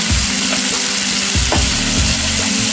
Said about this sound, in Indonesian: Kita aduk-aduk lagi sampai daun jeruk dan daun salamnya layu.